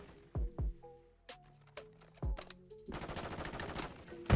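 Sidewinder gun in Call of Duty MW3: several sharp, separate gunshots with game effects between them, then a dense sustained burst of rapid fire toward the end.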